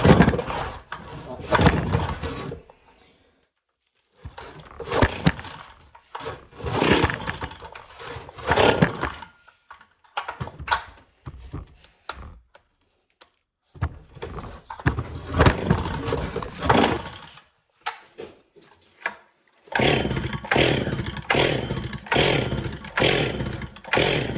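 A Stihl 044 chainsaw, cold and temperamental after sitting unused for a year and a half, revs loudly in repeated bursts with short pauses between, ending in fast pulsing throttle blips.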